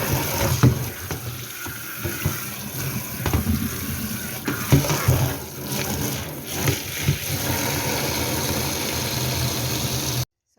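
Water from a tap runs steadily over squeezed barley malt (yeotkirum) being washed by hand for Korean red chilli paste, with gentle splashing and sloshing throughout and a low hum beneath it.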